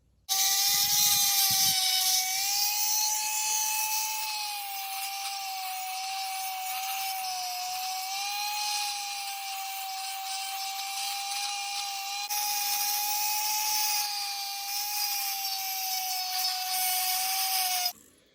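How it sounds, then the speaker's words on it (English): Small tool grinding a handmade metal necklace piece into a straighter shape, a steady high whirring hum with slight wavering pitch, close and continuous, with a short scraping burst at the start. "Now I'll just grind it straighter, and then we'll go from there."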